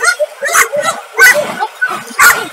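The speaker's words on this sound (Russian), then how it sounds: "Собаки довольные!" Large dogs bark loudly and close in three sharp bursts, with yips and whimpering mixed in.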